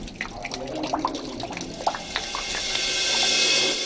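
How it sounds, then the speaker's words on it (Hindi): Water drips and trickles from a spring at a mountain peak, with scattered, irregular drops close by over a building wash of running water. "पहाड़ की चोटी से पानी कहां से आता है जो सदियों से आज तक मुसलसल टपक रहा है"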